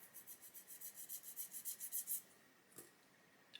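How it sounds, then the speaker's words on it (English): A sanding stick rubs a plastic part of a 1/32 HKM A-20G Havoc model kit in about a dozen quick, even back-and-forth strokes, close and faint, then stops. "Grab our sanding stick and just remove a little bit more."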